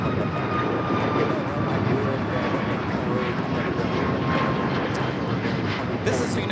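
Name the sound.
United Airlines Boeing 737 MAX 8 taking off at LAX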